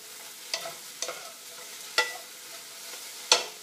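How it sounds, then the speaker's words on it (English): Spiralized sweet potato noodles stirred in a hot skillet: a gentle sizzle underneath four distinct utensil scrapes and clinks spaced about a second apart, close by with no talking. "Let's give this a quick stir first."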